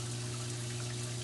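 Water rushes steadily through a ball valve in an aquarium sump plumbing setup, a dense, even hiss-like flow under a low constant pump hum, close and unbroken.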